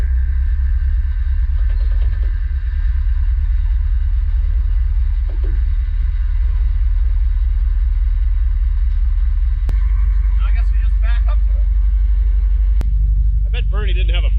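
A 1956 Chevrolet barn find, abandoned for 53 years, runs with a deep, steady engine rumble held close and loud throughout, while a few short spoken remarks come in over it toward the end.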